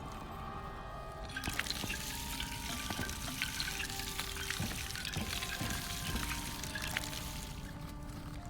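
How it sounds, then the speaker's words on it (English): Water pouring from a thermos onto crops in the survival video game Icarus, a steady hissing trickle that swells after the first second and runs on continuously, close and moderately loud. "let's water it all, because I have exactly the right thermos size for full watering"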